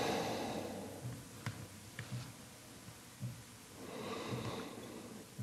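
Slow, deep breathing during a yoga shoulder-stretch pose, faint and close, with a long inhale-like swell at the start and again near the end, plus a few soft clicks and small noises in between.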